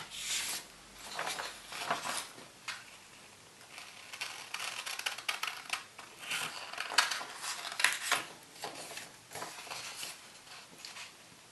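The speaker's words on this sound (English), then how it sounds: "I hope you like paper cutting noises, because this video is going to have a lot of them" Scissors snipping through paper while making Christmas TARDIS decorations, a close, soft series of irregular crisp cuts and rustles with brief pauses, no talking.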